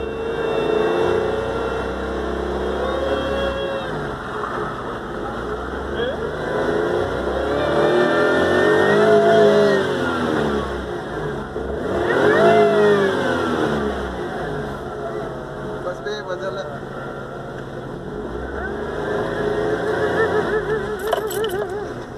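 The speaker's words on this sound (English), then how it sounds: "Let's start the vehicle and verify the same." A car engine runs and revs through several rising and falling sweeps over about twenty seconds, fairly loud and close, with a brief jangle of keys and some faint background voice.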